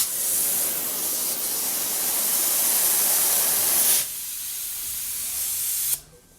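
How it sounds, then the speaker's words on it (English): Compressed air hisses loudly and steadily while a flexo sleeve is air-assist mounted onto a mounter, dropping to a lower hiss midway and then cutting off abruptly near the end. "we'll air assist mount this flexo sleeve"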